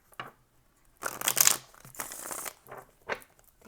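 A deck of tarot cards is shuffled close by, giving quiet papery riffles and crisp card slaps in short bursts separated by brief pauses.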